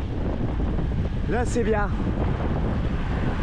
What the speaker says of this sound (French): on se prend un vent de malade depuis la pause déjeuner, on l'a dans le nez